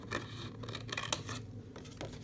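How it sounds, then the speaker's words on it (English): Scissors cut a greeting card apart down its center seam: a close, crisp run of snipping and paper-slicing strokes in quick succession. "The first thing I'm going to do is cut this card apart right down the center seam."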